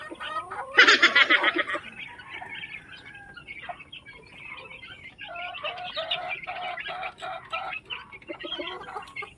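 Young chicks peeping while being moved into a blanket-covered pen, with a loud burst of shrill chirps early on, then continued overlapping peeps at a moderate level nearby.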